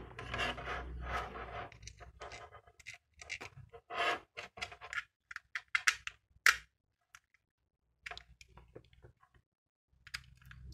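A two-pin plug top is screwed shut by hand, with close, quiet bursts of scraping, rubbing and small clicks separated by short silent pauses.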